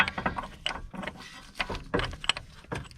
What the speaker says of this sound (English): I can even use that same socket just to tighten it up a little bit.